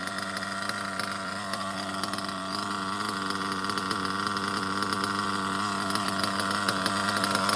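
A Hyper 21 nitro engine in an OFNA Ultra MBX two-speed buggy runs continuously at a high, buzzing idle, loud and close, its pitch steady and slightly rising, with no voices.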